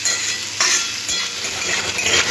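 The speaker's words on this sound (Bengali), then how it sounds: "পেঁয়াজ আর লঙ্কাটাও সবজির সাথে ভালোভাবে একটু হালকা ভাজলেই হবে" Onion and chili stir-frying with vegetables for chowmein, a loud, close sizzle of hot oil broken by repeated scraping stirs of a spatula in the pan.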